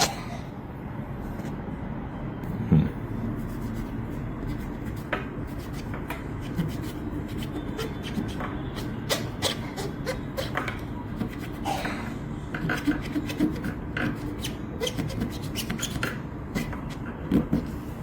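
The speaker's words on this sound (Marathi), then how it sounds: "याचा अर्थ नेल पॉलिश रिमूव्हरने देखील ही शाई काढता येऊ शकते हे यातनं सिद्ध होतं." A cloth soaked in nail polish remover rubs election ink off a woman's finger, giving faint, continuous scrubbing and scraping under a low room hum, with a few small knocks.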